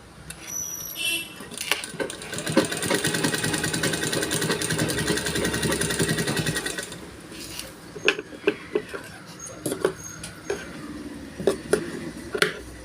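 A sewing machine running a line of stitching on fabric, a fast, even mechanical whir for several seconds, followed by scattered clicks and taps as the work is handled.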